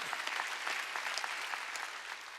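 Steady applause from a church congregation at a Wednesday worship service, a dense continuous patter of many hands clapping at moderate distance, with no voices standing out.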